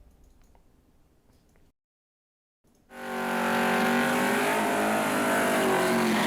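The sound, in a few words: Chevy Camaro race car accelerating hard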